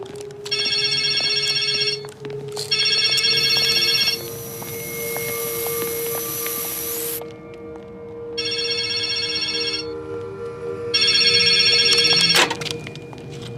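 A telephone rings inside the Resident Evil video game in repeated bursts with short gaps, loud and close over a steady ambient drone.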